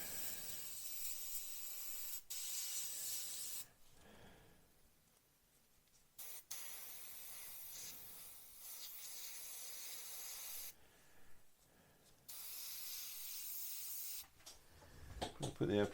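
An airbrush spraying primer onto a 1/48 Airfix Bristol Blenheim Mk1 model, soft steady hissing bursts that start and stop several times, each lasting a few seconds, faint and close.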